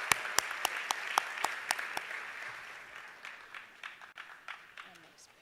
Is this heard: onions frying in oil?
no